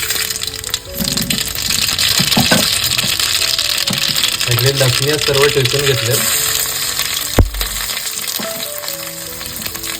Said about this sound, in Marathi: टोपामध्ये तेल घातलंय राईची फोडणी देतो अगोदर